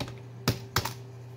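Two quick clacks from a computer keyboard come a short moment apart while someone types a chat message. They are close and moderately loud over a low steady hum, with no talk.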